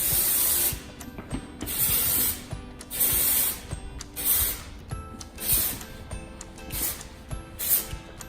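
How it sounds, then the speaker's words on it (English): Dry shampoo sprayed onto curled, voluminous hair in several loud, hissing aerosol bursts of about a second each, separated by short pauses, with faint mechanical clicks underneath and no talking. "And then always use a little bit of more of dry shampoo on it."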